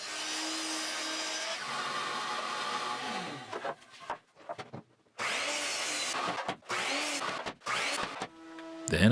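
Boards being sawn to length for a modern bathroom cabinet: a steady, close saw cut, then short choppy bursts and pauses, then another sustained cut, with no speech.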